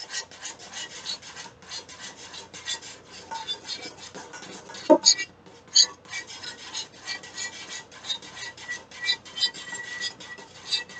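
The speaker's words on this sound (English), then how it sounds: "Apparently me using a whisk" A whisk scraping and rasping steadily against a bowl while stirring a baking recipe mixture, busy rhythmic strokes throughout with a few sharper clinks near the middle, close and fairly loud.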